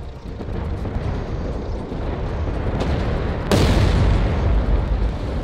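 Leopard 2A6 tank cannon fire during a video game tank battle, a single loud booming shot standing out midway through over a constant rumbling engine and battle background.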